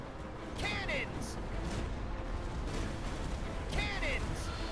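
Cannons fire in a pirate ship battle in Kingdom Hearts III, booming bursts under game music and effects, with a voice speaking over the action.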